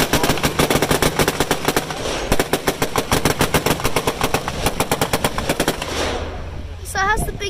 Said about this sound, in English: the guy that's sitting next to the driver has got his own little machine gun out the front